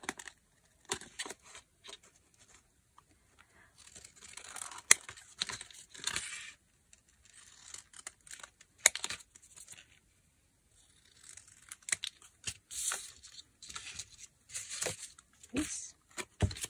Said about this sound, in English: Alright, so you just cut some squares.